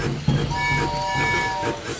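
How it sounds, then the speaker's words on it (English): Cartoon steam train from a children's animated show, a continuous rumbling rolling sound with a tonal whistle-like hum running throughout, moderately loud and steady over two seconds. "Except for the train."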